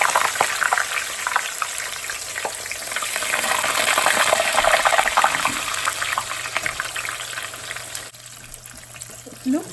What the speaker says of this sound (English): so I'm just gonna fry the eggplant next.